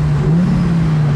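Engine of an Audi coupé project car idling with a steady low hum that swells slightly as it revs, close and continuous with no talking.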